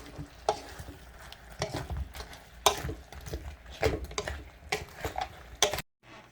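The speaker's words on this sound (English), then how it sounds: "Now let me coat the cauliflower with my sauce." Cauliflower being stirred and tossed to coat it in orange sauce, with wet sticky scraping and irregular clicks of a utensil against the bowl, close up, ending in a brief silence.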